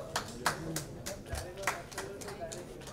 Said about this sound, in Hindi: आप सभी की जोरदार तालियों के साथ